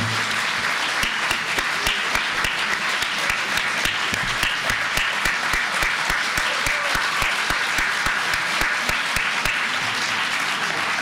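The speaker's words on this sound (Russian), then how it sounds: "давайте похлопаем этому человеку" A concert audience at a bard and humor show claps steadily and densely for the whole stretch, sustained applause with no speech over it.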